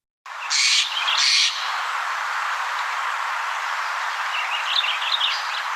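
A recorded corvid call rings out in the open: two loud, harsh bursts early on, then softer scattered calls over a steady bed of ambient hiss, with a finch chattering faintly in the background.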